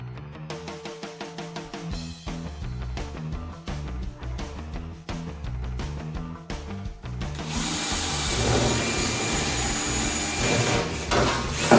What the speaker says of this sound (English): So now it's on to the tedious drilling of the holes